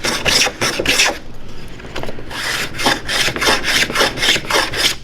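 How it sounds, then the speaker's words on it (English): An antique hand tool scrapes saw marks off a wooden workpiece in rapid back-and-forth strokes, a close, loud rasping rhythm with a brief pause partway through. "Clean the saw marks off that side."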